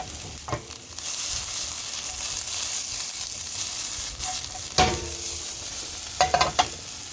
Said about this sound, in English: cook on medium heat, stirring frequently until the onions are tender and lightly browned